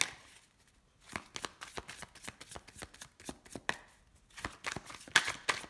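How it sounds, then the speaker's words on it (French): Tarot cards being shuffled by hand, a close, soft run of rapid papery riffles and taps coming in uneven bursts with no talking. "Je vais les mélanger un peu."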